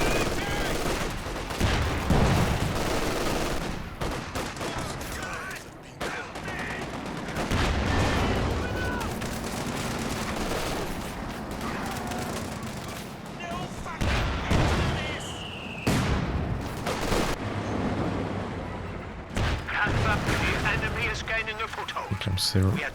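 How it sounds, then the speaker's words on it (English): LMG Grenadier machine gun fire in the World War II strategy game Company of Heroes 2, with bursts, heavy artillery-like booms and battle noise over a 2v2 match, under a caster talking throughout. "The LMG Grenadier is chunking through the 50 cal really fast."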